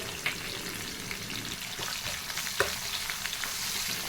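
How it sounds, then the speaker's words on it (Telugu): Onions with asafoetida fry in hot oil in a close, continuous sizzle, with occasional clinks and scrapes from stirring. "ఆనియన్స్ మంచిగా ఆయిల్లో ఫ్రై అయిన తర్వాత ఇందులో ఇంగువ వేసుకోవాలి"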